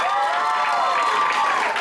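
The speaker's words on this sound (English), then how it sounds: "Give a round of applause" Brief burst of audience applause with cheering at an anime convention game-show event, a dense steady crowd noise that carries loudly throughout.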